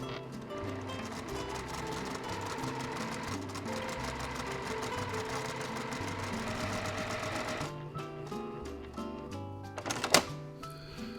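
A sewing machine stitches quilt pieces slowly with a 1/4 inch seam and short stitch length, a steady close mechanical whir with rapid needle ticking for about eight seconds, then quieter, with a brief clatter near the end.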